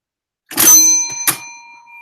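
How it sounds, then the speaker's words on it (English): A small metal bell struck twice, close and bright, each ring leaving a clear sustained tone that fades out slowly. "Thrift Daddy likes the bell, I guess."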